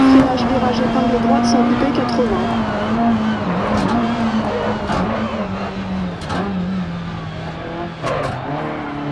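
A Peugeot 306 Maxi rally car in the Dirt Rally video game on a German stage, engine droning loudly and steadily with shifting pitch and occasional tire noise, a co-driver's voice calling pace notes over it.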